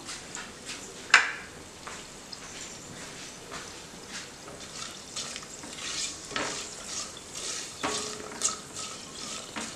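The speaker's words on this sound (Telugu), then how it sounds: "సో మనం ఒక 2 నిమిషాలు కాజు అనేది వేపుకుందాం." Cashews frying in a pan for a rice dish, stirred with a spoon: steady soft sizzle with scattered scraping taps of the utensil against the pan, one sharper clink early on, close and moderately loud with no talking.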